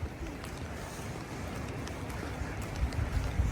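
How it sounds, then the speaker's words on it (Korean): Steady rain falling on a camper van on a first night in New Zealand, a continuous broadband wash with low rumbling patter, even and close throughout without any talk. "하필이면 첫날 비가 와서."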